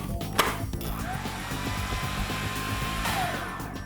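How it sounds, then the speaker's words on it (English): A food processor whizzes plain flour to aerate it for baking, giving a steady, close motor whir with a high spinning hum that holds level throughout, without speech. "Start off by putting the flour in a food processor, makes it really easy."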